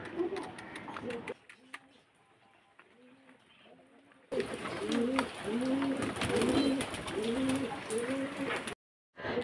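Pigeons in a dirty coop give a steady run of soft, throaty coos, faint at first and then close and repeated in a rolling rhythm, with light chirps and a voice in the background.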